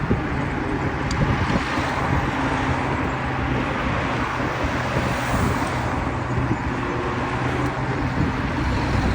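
A car drives a risky narrow mountain road near L'Aquila, Italy, its engine and road noise forming a steady moderate rumble mixed with buffeting wind noise on the microphone.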